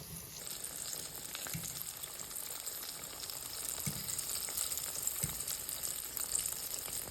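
Breaded vegan hearts of palm frying in oil, a steady close crackling sizzle that runs throughout with a few faint knocks, no voices.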